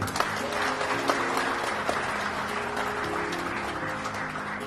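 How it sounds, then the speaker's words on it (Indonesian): An audience at an Indonesian Democratic Party political event applauds for BMI, a dense continuous clapping wash filling the hall, steady and loud throughout with a low hum beneath. "Tepuk tangan untuk BMI."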